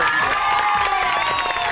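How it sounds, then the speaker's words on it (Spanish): A studio audience on an Argentine TV comedy show cheers and applauds, a short dense burst of claps, shouts and whistling voices held at steady loudness throughout. "un aplauso para"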